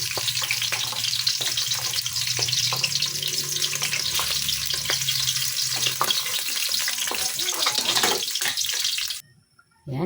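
Thick kaldereta stew being stirred in a pan, with a steady bubbling, splashing sizzle and scraping that stays loud and continuous, then stops abruptly near the end.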